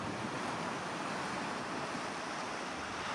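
Steady, dense roar of sea waves and wind at Thornwick Bay, a continuous broadband wash with no voices over the whole stretch.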